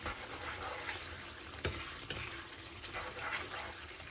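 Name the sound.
mutton curry masala frying in oil on medium heat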